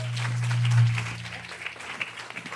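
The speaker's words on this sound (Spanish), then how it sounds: "Un aplauso, bienvenida." A church congregation applauds for a couple of seconds, a dense patter of claps swelling early and then thinning out, with a steady low electrical hum underneath.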